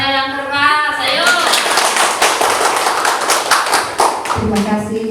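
Loud, dense clapping from a school audience at a teachers' presentation event, sustained for several seconds between bursts of speech at the start and end.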